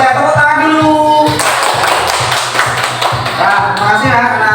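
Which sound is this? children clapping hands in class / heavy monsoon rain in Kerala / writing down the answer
children clapping hands in class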